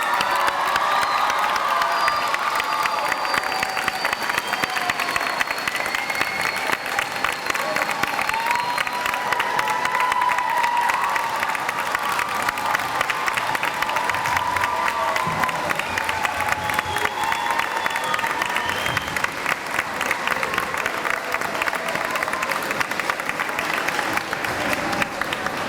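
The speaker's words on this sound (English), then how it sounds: "Let's give them another round of applause." Spark Academy audience at a 2017 8th grade promotion ceremony, clapping and cheering loudly and continuously for nearly half a minute, with whoops and shouts rising from a large crowd.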